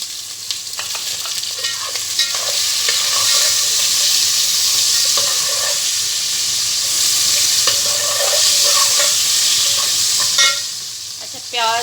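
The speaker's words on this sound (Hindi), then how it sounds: "ऑयल गर्म हो गया। अब हम इसमें नमक, अदरक और प्याज इकट्ठे शामिल कर देंगे।" Salt, ginger and onion hitting hot oil, a loud, dense sizzle that stays strong throughout, with spatula scraping and stirring clatter on top, no voices.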